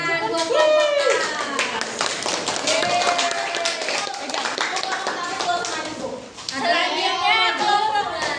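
A primary school class claps for a student group after its presentation, loud dense clapping that fills the room while children's voices chatter and call out over it.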